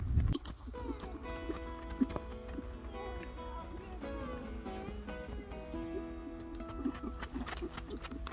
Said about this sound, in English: We're going to try to work on a little bit of left canter before we head out on the trail.